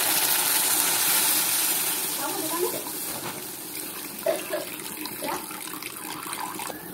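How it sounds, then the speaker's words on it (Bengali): Water pours steadily into a pan of fried spice paste for an egg masala curry, a continuous rushing splash that gradually settles into softer bubbling and trickling. "এবার আমি জল দিয়ে দেবো।"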